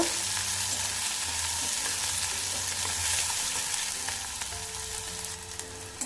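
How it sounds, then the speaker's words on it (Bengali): A medium onion, chopped and fried in oil with whole cumin seeds, gives a steady, fairly loud sizzle that runs unbroken with no talking. "পেঁয়াজটা আমি লাল লাল করে একটু ভেজে নেব"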